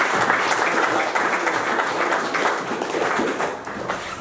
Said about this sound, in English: And a big round of applause again, please.